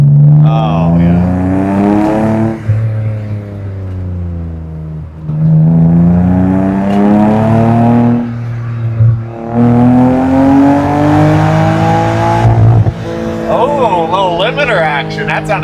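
A roadster's engine revs hard in three long rising pulls, each climbing steadily in pitch before dropping off, loud and close throughout.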